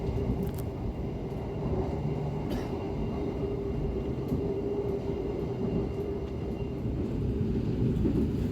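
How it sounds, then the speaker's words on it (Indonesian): The Kamandaka passenger train rumbles steadily along the rails in Indonesia, a constant loud low roar with faint rhythmic clatter, heard from on board or very near. "Dan ini dia percabangannya kereta api Kamandaka ke arah kiri ya."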